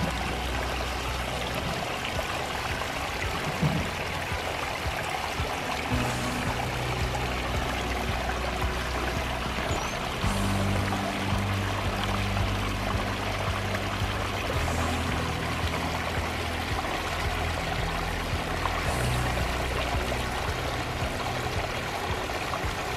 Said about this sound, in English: all set with this Pondless waterfall renovation